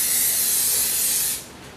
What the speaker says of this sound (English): take a non-sticking agent that I use to coat my pans, put in a glass Pyrex pan, or Pyrex cup